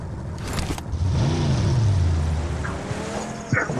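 A video-game car engine revs and whines at close range, its pitch rising and falling steadily, with a brief squeal of tyres near the end and no talking.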